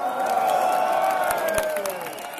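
A concert crowd at a show in Stockholm applauds and cheers, a dense, steady roar of clapping and shouting that carries through the whole moment.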